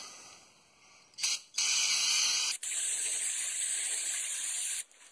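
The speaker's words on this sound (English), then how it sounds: "We should spray this off with some brake clean." An aerosol can of brake cleaner sprays onto a 2004 Pontiac Grand Prix's rear brake area in several long hissing bursts with brief pauses between them, loud and close, no voices.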